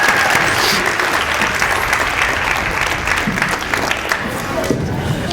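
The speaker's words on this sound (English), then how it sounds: "Beginning band, it's a standing ovation." A school audience rises in a standing ovation for a beginning band at a demo night, dense sustained clapping and cheering from a full room, loud and continuous throughout.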